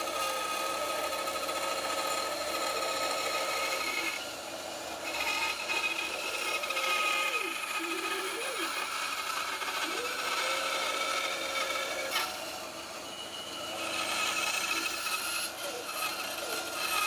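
Steady rasping saw strokes cut through the wooden upper part of a pochette, the inner side of its arch, continuing closely for over fifteen seconds with a short drop in the middle.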